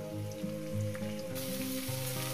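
Potato and pumpkin green shoots fry in a pan with a faint, steady sizzle, quiet and continuous with slight shifts in texture.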